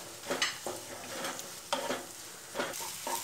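Onions sauteing with salt in a pan for Kerala-style kadala curry, a low sizzle punctuated by a few sharp scraping stir strokes in a quick uneven rhythm, close and alone.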